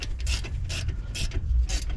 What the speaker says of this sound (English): I've now swapped to the ratchet because obviously the spanner takes forever.